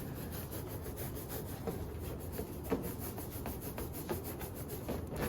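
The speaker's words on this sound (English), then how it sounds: "I'm gonna take part A and I'm gonna rub it on my hair." Rubber balloon rubbed on hair during a charging-by-friction lab, a close, steady scratchy rubbing with repeated strokes at an even rhythm, fairly quiet and alone.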